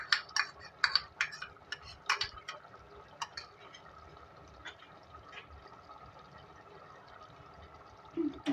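A spoon whisks yogurt in a bowl for a Delhi-style beef stew, giving a quick burst of clinking and scraping strokes at the start, then quieter, intermittent stirring and faint clicks.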